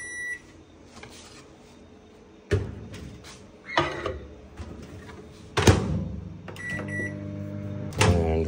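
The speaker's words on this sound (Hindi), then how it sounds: "माइक्रोवेव" A microwave oven hums steadily while heating about 400 grams of meat on the bone, punctuated by several close door thunks and electronic beeps, with no talking.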